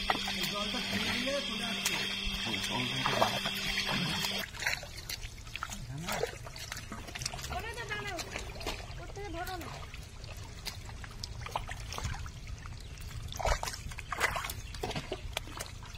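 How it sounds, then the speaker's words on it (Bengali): Water trickles and dribbles steadily through a small muddy channel while snakehead fish are caught, a constant low wash running throughout under voices talking nearby. "ওইখানে নালা মতো একটু জলটা চলে যাক"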